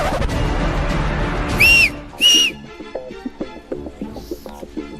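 Two loud, sharp whistle blasts in a tense film confrontation scene, each about a quarter second and in quick succession, followed by a background music score with plucked notes.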